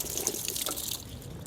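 Water splashing and trickling in a San Sebastián restaurant, a short soft burst of liquid sound with faint clatter, no talk.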